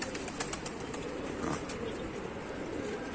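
Pigeons in a loft flock taking flight, a flurry of sharp wingbeat claps in the first second followed by softer fluttering and a faint coo, fairly quiet and close, without talk.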